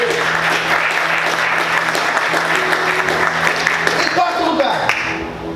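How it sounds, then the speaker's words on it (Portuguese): A church congregation applauds loudly and steadily throughout, with dense clapping and a sustained tone running beneath it, tapering slightly near the end. "Você pode aplaudir o Senhor mais uma vez?"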